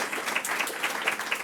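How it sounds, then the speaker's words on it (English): An audience claps warmly for a panel at a public discussion on medical assistance in dying and mental health: a dense, steady round of many hands, close and continuous throughout the short stretch. "We should give them a warm applause"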